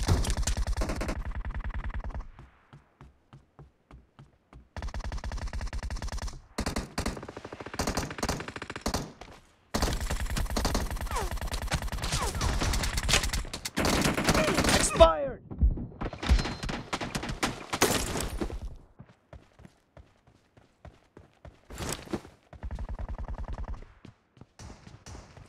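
Gunfire in the mobile game PUBG Mobile during a team deathmatch, with loud bursts of rapid automatic shots alternating with short quiet gaps, some single cracks and shorter volleys.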